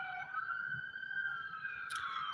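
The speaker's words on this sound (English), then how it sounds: "Look, why those sirens are going." A police siren wailing in the distance, a faint, steady tone that holds and drifts slightly in pitch, with a brief brighter burst near the end.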